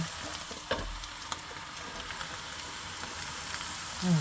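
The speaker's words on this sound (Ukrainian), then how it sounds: "Цибулька вже у нас стає напівпрозора. Вже починає трішки прижарюватись" Onion and carrot fry in a pan with a constant close hiss like light rain, broken by a couple of soft spatula scrapes, with no voices.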